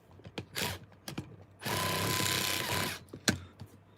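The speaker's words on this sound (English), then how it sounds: "That noise you can hear is the clutch just kicking in," An RC crawler, a Traxxas TRX-4 fitted with an overdrive gearbox and a Castle Copperhead system on team edition rails, makes a steady broadband mechanical whir for about a second and a half as its clutch engages, with a sharp click before and after.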